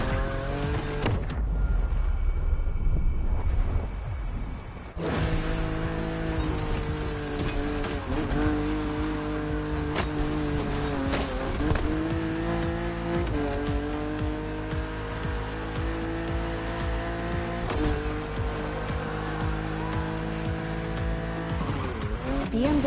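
A BMW Z roadster races through The Crew Motorfest, its engine note rising and shifting in steady harmonic sweeps, with tire squeal and skidding against an aggressive opponent, loud and continuous throughout.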